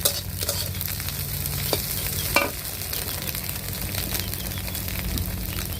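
An egg fries in a pan over a small clay stove, giving a soft, steady sizzle with a few distinct scrapes and taps as it is stirred or turned.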